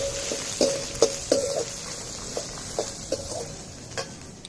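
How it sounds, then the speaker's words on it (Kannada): Onions frying in a pan until brown make a soft sizzle, punctuated by a series of sharp, close spatula taps against the pan at irregular intervals, with no talking. "ಈಗ ಈರುಳ್ಳಿ ಸ್ವಲ್ಪ ಬ್ರೌನ್ ಆಗೋ ತನಕ ಫ್ರೈ ಮಾಡ್ಕೊಂಡ್ರೆ ಆಯ್ತು"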